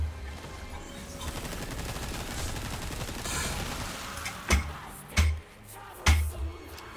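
Several loud gunshots crack out in quick succession over a steady bed of Resident Evil game noise and rumble, each blast sharp with a booming low tail.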